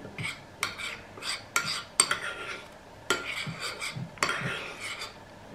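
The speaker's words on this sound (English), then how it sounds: "And just mixing it all together." Spoon stirring a coffee and olive oil face mask mixture in a bowl, giving repeated close scraping and clinking strokes against the dish with a few brief pauses.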